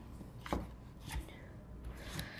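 A knife chops vegetables on a board for cooking, giving three sparse, crisp strikes spaced apart against a quiet room.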